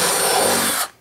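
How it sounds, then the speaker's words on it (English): A cordless drill fitted with a half inch bit bores through a plastic container, a loud steady whirring grind lasting under a second before it cuts off abruptly, alone without talk. "I've got my half inch drill bit and my cordless drill"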